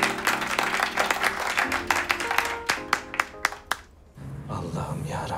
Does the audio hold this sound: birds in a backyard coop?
no